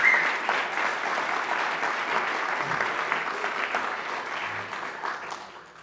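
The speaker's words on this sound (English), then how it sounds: "So really give these people a round of applause for coming and doing this." An audience at a community forum applauds presenters with steady, dense clapping that starts loud and slowly tapers off over about six seconds.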